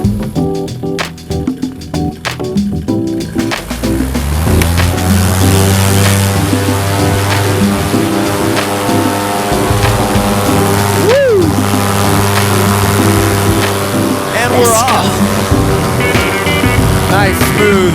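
A paramotor engine spools up from quieter sounds into a loud, sustained buzzing drone during the takeoff roll on a windless airfield. The tone stays steady with slight pitch wavers, and no one speaks over it.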